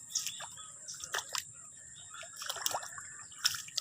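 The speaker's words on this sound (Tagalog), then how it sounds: "Tubig ng dadaanan." Muddy water trickles along a rural footpath near a stream, a soft, close wet dribbling with scattered drips and small splashes, faint birds in the background.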